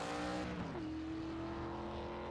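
ARCA stock race car at Daytona roaring past close by, loud sustained engine tone with a pitch drop as it passes, continuous and without talk.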